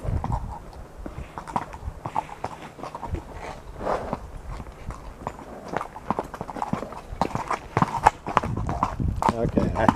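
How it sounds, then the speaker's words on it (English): Horses walk along the Ojai trail near a creek crossing, their hooves clip-clopping in a steady, uneven rhythm close by. Talk can be heard over the hoofbeats. "Don't know if these horses are going to go on it."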